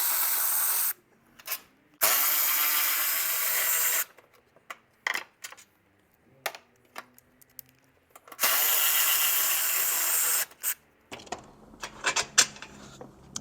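A power tool whirs in loud bursts while loosening 13 mm bolts that hold a bar on a 2012 Chrysler 300 during an upper control arm replacement, with short clanks and tool handling between bursts.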